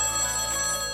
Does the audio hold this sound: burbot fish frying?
no